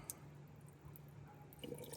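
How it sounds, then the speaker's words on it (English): Water trickles from a partly opened gray water tank valve on a 2024 Cherokee Grey Wolf 26DBH Black Label travel trailer, faint, close drips and splashes over a low steady background. "As you can see, there's water coming out of it right now."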